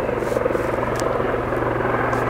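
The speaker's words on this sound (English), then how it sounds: "Helicopters are landing." A helicopter landing near a girls' softball game outdoors gives off a steady, loud rotor drone and rumble that carries on without a break.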